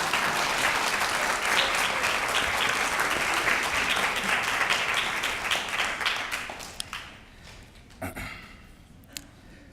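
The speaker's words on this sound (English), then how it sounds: "Give them a clap." Applause for faculty at a college honors ceremony, dense clapping from a crowd that holds steady, then thins out and fades to scattered claps near the end.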